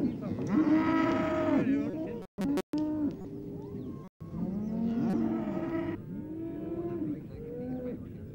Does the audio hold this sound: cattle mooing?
yes